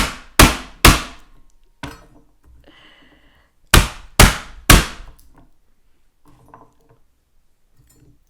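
Heavy, sharp thuds hit a hard surface in two sets of three as garlic cloves are squashed, with softer knocks and a quiet pause between them.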